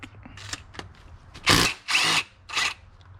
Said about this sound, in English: get my 10 mil, take off my intake